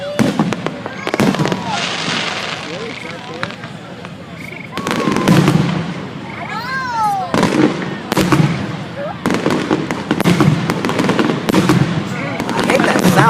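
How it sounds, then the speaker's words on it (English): Fireworks burst at night during a show building to its finale, a rapid run of loud sharp bangs and crackles with whistling rockets rising between them, while people talk nearby. "Good this and like 20 other fireworks and this is finale."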